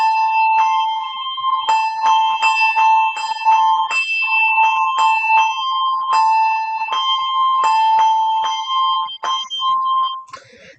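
Handbells ring clear bright notes in a steady, somewhat mechanical sequence, each strike sustaining into the next, loud and close, with the ringing tapering off and breaking up at the end.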